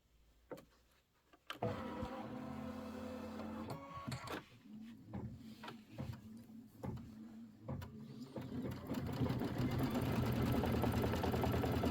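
A quilting embroidery machine stitches a seam through batting on a Nativity bench pillow border, starting with a few sharp clicks, then a steady mechanical whir with rhythmic thumps that grows louder and denser toward the end.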